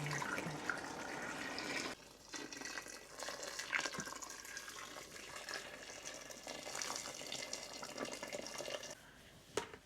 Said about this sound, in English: So I'll just add salt, pour boiling water in it.